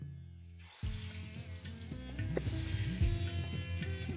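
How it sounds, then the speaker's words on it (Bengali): Boal fish frying in hot oil in a pan. A steady, close sizzle and crackle starts abruptly under a low hum and holds for the rest of the short clip, growing somewhat louder toward the end. "এবার এটাকে আপনারা ততক্ষণ ভেজে নিন যতক্ষণ না একটা দিক একটু লাল লাল হয়ে ভাজা হয়ে আসছে"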